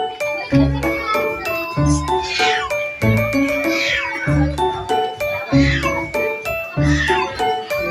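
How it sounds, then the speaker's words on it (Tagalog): Rhythmic jingling and tinkling notes repeat throughout, with higher cries from a six-year-old cat mixed in over a busy, cluttered background at a free pet vaccination event. "Kinakutakan po ang aming pusa, si Sancho."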